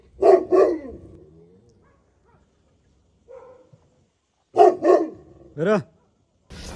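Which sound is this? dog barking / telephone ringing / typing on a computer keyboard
dog barking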